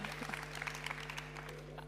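Audience applause at a French youth programme session, a soft, steady patter of many hands, distant and faint over a constant low hum.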